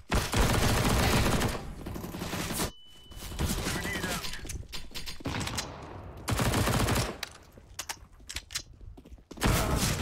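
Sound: gunfire from a video game, CS:GO

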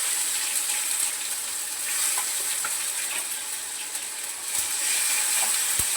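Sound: sautéing mustard seeds, cumin, garlic and tomato in a pan

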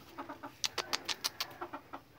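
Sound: chickens clucking

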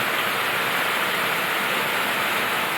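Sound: heavy rain falling

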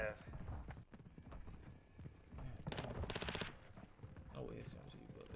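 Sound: SMG gunfire in a video game

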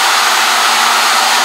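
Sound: CNC router table moving in dry run

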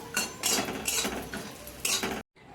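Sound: bori lentil dumplings frying in oil

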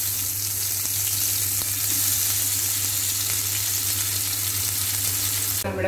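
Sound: paneer tikka frying in coconut oil in a pan

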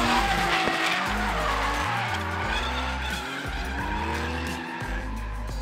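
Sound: cars tandem drifting, tires skidding

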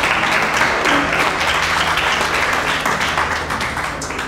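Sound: audience applause for a professor at a festival

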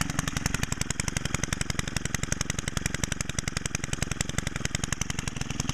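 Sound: small four-mix engine of a trimmer or blower running

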